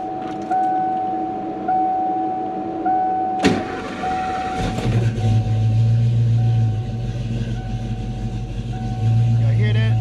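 A 1987 Mustang, a McLaren edition, cranks over and settles into a loud, deep idle close by, its heavy rumble running steadily after a brief starter burst, with a voice talking over it at moments.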